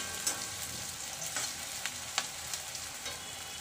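Onions fry in a pan for a dhaba-style chana dal, giving a steady close sizzle with light scraping as they are stirred. Occasional sharper clicks rise above it, and no one speaks.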